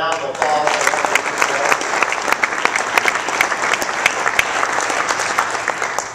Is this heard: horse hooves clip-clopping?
no